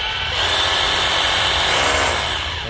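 Japanese cordless 24V drill with regular and hammer modes, running steadily at close range for the whole stretch, a dense continuous whine without pauses.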